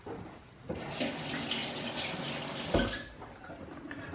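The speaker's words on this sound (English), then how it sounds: "let me rinse my knife off" A kitchen tap runs steadily as a knife is rinsed under it, a close hissing stream of water with a brief clink partway through and no voices.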